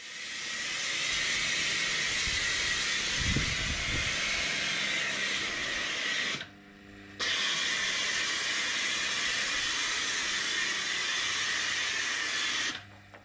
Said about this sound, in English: So it began by blanketing the bike over with a thick layer of dedicated and hopefully long dwelling suds.